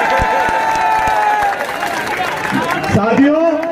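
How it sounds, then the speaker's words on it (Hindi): Audience at a political rally in India claps and cheers, a dense burst of applause and crowd noise with a loud voice over a public address system carrying on over it. "जोरदार तालियां"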